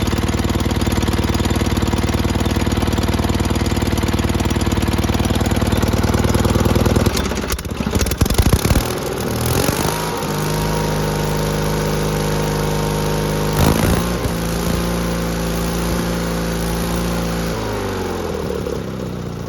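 Onan B48M engine on a Roper RT16T garden tractor runs steadily nearby with a loud, continuous drone; its speed shifts partway through, then it settles back into an even idle.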